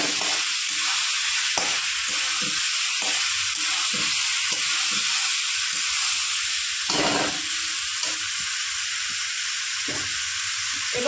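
Boiled potatoes frying in ginger, onion and garlic paste, a steady close sizzle broken by repeated scraping stirs of the spoon against the pan throughout.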